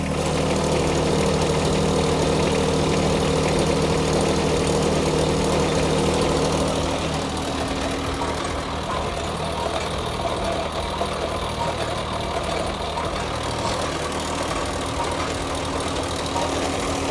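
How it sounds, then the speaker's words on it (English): Tractor engine running steadily with the PTO engaged, driving a post hole digger auger; a loud, continuous low drone that eases slightly in level partway through. "I'm going to kick the PTO on here."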